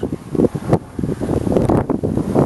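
Strong wind buffets the microphone outdoors in a goji berry field, loud irregular low-pitched gusts and thumps rising and falling in quick bursts, with no one talking.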